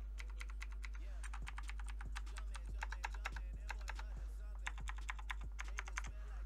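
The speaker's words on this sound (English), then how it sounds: "Razer Blackwidow, just the number one, not the Ultimate Edition." A Razer BlackWidow mechanical gaming keyboard, the original model rather than the Ultimate Edition, being typed on up close, with rapid bursts of crisp clicky keystrokes separated by short pauses over a low steady hum.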